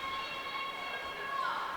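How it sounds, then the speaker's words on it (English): A referee's whistle blows during an ice hockey game between the Rhode Island Sting and Casco Bay, a long steady tone that stands out over rink noise and faint commentary. "whistle will stop play"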